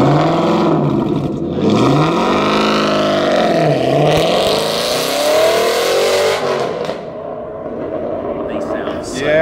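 An Aston Martin sports car engine revs hard and loud, rising and falling in pitch through several throttle blips, close by with a throaty exhaust.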